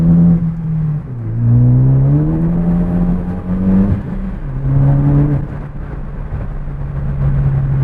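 A Ford Focus ST engine with a new intake, hood open, revs up and down nearby, its droning pitch swelling and falling in several loud pulls over a steady idle rumble.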